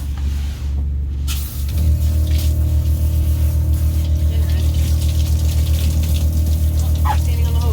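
Water from a hose sprays steadily during home dog grooming, a continuous rushing hiss with a low pump-like hum that drops briefly near the start, then runs on unbroken.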